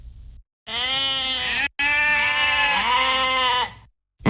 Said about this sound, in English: His sheep were roaming the highway.